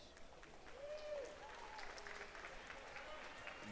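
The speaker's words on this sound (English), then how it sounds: "Y'all give Aurelie a huge round of applause" Faint, distant applause from a crowd at a school livestock show lamb event, a steady patter of clapping under some background murmur.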